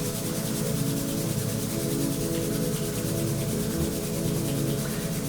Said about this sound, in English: Take your hands, rub them together if you can, warming up the palms, creating heat between your hands